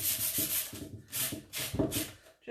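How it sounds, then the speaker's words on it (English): Painted edges of a wooden box are sanded by hand in short, rhythmic rubbing strokes, close and fairly soft, with brief pauses between passes. "Sanding all my edges."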